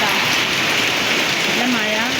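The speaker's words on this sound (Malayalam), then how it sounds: "നല്ല മഴ." Heavy rain pours steadily and loudly on surfaces, a dense continuous hiss close by with a faint voice underneath.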